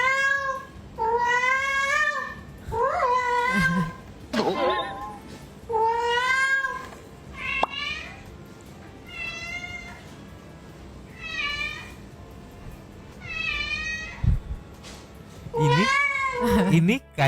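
A cat's meows play back from a phone recording, a long series of drawn-out, whiny calls in regular bursts, loud and close, with faint room noise between them.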